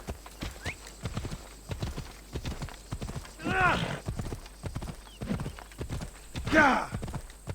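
In the Assassin's Creed Odyssey video game, a horse's hooves clip-clop in a brisk, steady rhythm, close and moderately loud, with two whinnies breaking in partway through.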